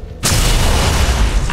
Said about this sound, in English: Let's cap some rounds at the super heavy turret.